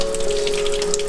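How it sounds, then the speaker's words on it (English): Fresh water gushing steadily from a tap fed by a newly installed well pump, with a constant pump hum under the close, continuous rush of water. "And we actually got fresh water running."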